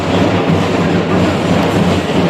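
A train rumbles through a railway station with a loud, dense, steady roar of wheels and carriages, continuous throughout without pauses.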